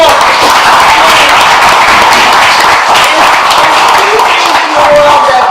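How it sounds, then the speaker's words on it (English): A studio audience on a broadcast talk show breaks into dense, steady applause, many hands clapping loudly and evenly throughout with a faint murmur of crowd voices underneath. "Everybody give a round of applause."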